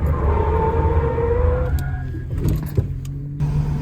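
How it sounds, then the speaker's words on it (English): A car with a hydroboost brake conversion and modified power steering pump drives at speed and then brakes, with a steady engine and road rumble and a brief squeal as it slows. "It's time to apply some brakes."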